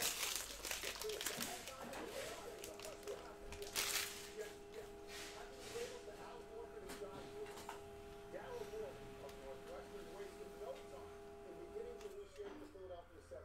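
A Panini Chronicles basketball card pack from the 2019-20 set is torn open with crinkling, tearing foil wrapper sounds close to the microphone, while a steady tone hums in the background and a person talks over it.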